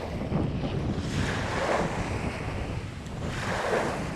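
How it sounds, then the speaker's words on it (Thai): Ocean waves break on a beach shore where squid are fished from land, a loud rolling wash that swells and recedes under heavy wind buffeting the microphone, with no voices. "บรรยากาศแบบนี้ครับ คลื่นล้มแบบนี้ครับ"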